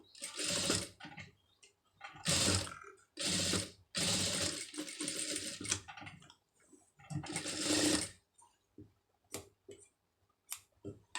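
Sewing machine stitching a sleeve in bursts of rapid mechanical chatter, several short runs separated by quiet pauses, close and clear with light handling clicks between.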